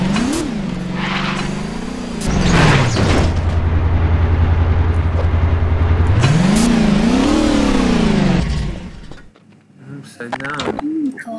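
Car engine in the video game Garry's Mod, revving loudly with rising and falling pitch sweeps, holding a steady low drone in the middle before cutting off, with brief voice sounds near the end.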